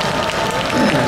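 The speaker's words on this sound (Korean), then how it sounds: "여러분 큰 박수 부탁드립니다." Audience at a Korean lecture event about Park Chung-hee claps loudly for a guest speaker, a dense, continuous wash of applause from a full room over about a second.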